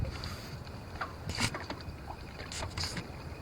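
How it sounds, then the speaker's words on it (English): Boats and a large yacht moving across open water off Cape Cod, with a steady low engine-and-water rumble, gusts of wind, and a few brief splashy bursts scattered through. "there's another mega yacht on its way in"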